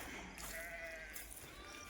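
A faint, distant sheep bleat rises and fades over a low background rumble, quiet and far off, from a flock turned loose in a cotton field.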